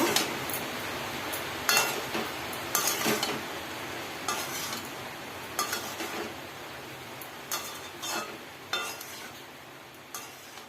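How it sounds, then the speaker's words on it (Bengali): Spiced papaya leaf greens, seasoned with turmeric, salt and cumin powder, being stirred in a pan, giving repeated scraping and clinking strokes over a soft sizzle, close and irregular with no talk. "সব দেওয়ার পরে এখন আমি ভালো করে নাড়াচাড়া করে নেব।"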